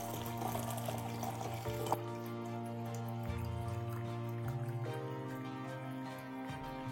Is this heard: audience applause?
no